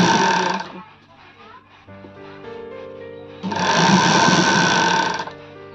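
A sewing machine stitches a folded hem on a readymade sleeveless kurti, whirring loudly in two bursts, a short one at the start and a longer one later. Someone talks quietly in the pause between them.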